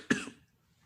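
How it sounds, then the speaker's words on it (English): A single short, sharp cough from a man recording a movie podcast, close to the microphone, with a quick throaty tail fading into quiet. "I don't know why this cough decided to come back while I'm recording."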